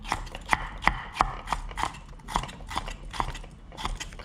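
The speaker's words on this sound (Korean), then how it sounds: "너무 자르면 지저분해서 파프리카는 가늘게 채쳐주세요." A kitchen knife slices paprika into thin julienne strips on a board, a run of sharp, fairly even chops about every half second, close and alone with no talking.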